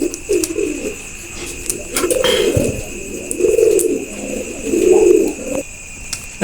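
Domestic pigeons kept for sale cooing close by, a run of four or five low throaty coos in uneven bursts over a constant background hum.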